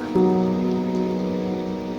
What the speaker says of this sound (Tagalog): Sa pagpatak ng ulan